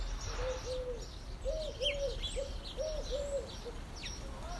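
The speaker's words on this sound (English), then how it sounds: "Hear the birds," Outdoor birdsong in a garden: a soft, repeated cooing call like a dove's in a steady rhythm, with higher chirps and tweets from other birds scattered over a faint background hum, moderately distant.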